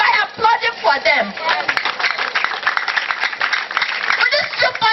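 Debate audience applauding at a Nigerian inter-schools debating championship, a dense, steady patter of clapping that fills the whole stretch, with some talk faintly mixed in.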